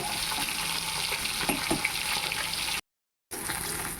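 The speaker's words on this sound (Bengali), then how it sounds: "এবার মাছ দিয়ে দিচ্ছি তেলের ওপর" Fish frying in hot oil in a heated wok gives off a steady, dense sizzle, close and loud, broken by a brief silent dropout before the crackle resumes.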